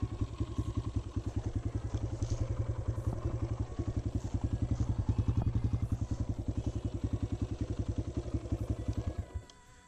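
A 2018 Kawasaki KLX140L pit bike engine runs steadily at a close, even idle, its regular low pulsing thump going on for about nine seconds before cutting off at the end.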